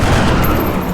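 A loud, dense volley of gunfire from an XCOM Enemy Within squad battle, filling the whole second as one continuous close-range burst.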